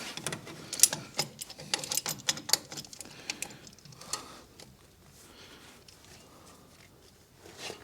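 Ratchet wrench cranking on a stuck brake caliper of a 1996 Ford in a back yard, a burst of quick clicking pawl ticks in the first few seconds, then fainter scattered clicks and rustling, close and fairly quiet.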